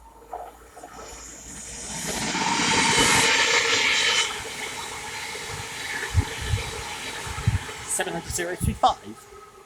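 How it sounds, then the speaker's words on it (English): A Thameslink Class 700 train bound from London King's Cross to Cambridge roars past nearby at Welham Green, a hissing whoosh of wheels and rails that builds and fades, followed by scattered clicks and a few brief spoken words. "the next train to pass by is the Thameslink 700 from London King's Cross to Cambridge"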